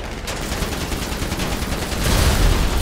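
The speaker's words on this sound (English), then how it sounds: "Can we machine gun them easily enough?" Machine gun fire in GTA 5 Online, a dense, sustained rattle of rapid shots that swells louder near the end, with no talking over it.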